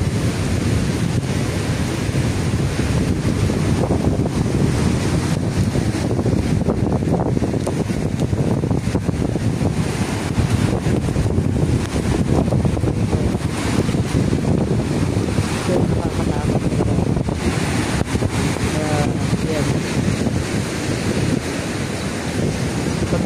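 Stormy beach ambience where heavy, rough ocean waves meet incoming river waves, with strong wind gusting across the microphone; a loud, continuous roar of surf and wind runs unbroken throughout, with no talking.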